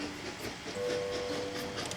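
A game train pulls out of a station in Train Valley with a steady rumbling hiss and a sustained whistle-like tone partway through.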